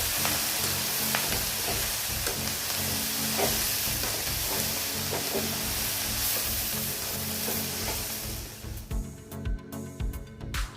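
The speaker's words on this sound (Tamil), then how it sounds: "கீரையை நல்லா வெங்காயத்தோட மிக்ஸ் பண்ணி விட்டுடலாம்." Spinach stir-frying with onions in a hot pan, a steady dense sizzle with stirring scrapes running throughout, thinning and breaking up near the end.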